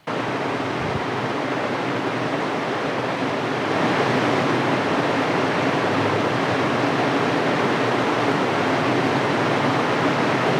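Rushing floodwater pours in a loud, continuous roaring wash of broadband noise that holds steady and unbroken, close by, with no voices.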